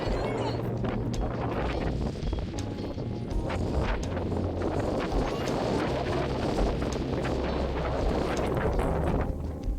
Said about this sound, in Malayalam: ഈ കാറ്റടിക്കുന്ന ശബ്ദം നിങ്ങൾക്ക് കേൾക്കാൻ പറ്റുന്നില്ലേ?